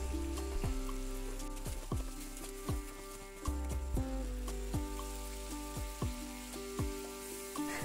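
Village-style chicken curry is sautéed in a pan over a medium flame: a continuous sizzle broken by regular sharp stirring clicks, with a tonal musical background throughout.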